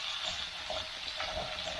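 Steady quiet sizzle of small pieces of lambs' liver frying in a pan, a continuous hiss with no talking.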